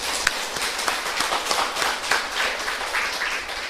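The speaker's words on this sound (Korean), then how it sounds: "하나님께 영광의 박수 돌릴까요?" A church congregation at a Sunday worship service applauds, a dense, steady round of many hands clapping close around the listener for the whole stretch.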